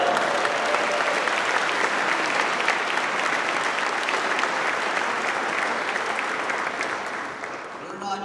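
A church congregation at a priestly ordination applauds warmly, dense, steady clapping from a large crowd that holds for several seconds before tapering off at the end.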